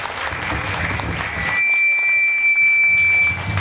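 Audience applause at a Holi celebration in a Hindu temple hall, a loud wash of clapping that continues under a high, steady electronic whine which appears midway and fades.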